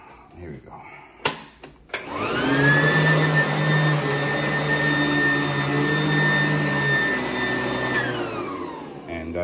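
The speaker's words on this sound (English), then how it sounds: "We're still gonna vacuum this." A Sanitaire vacuum cleaner switches on after a few clicks and bumps, then runs with a loud, steady whine and roar that holds for several seconds before winding down.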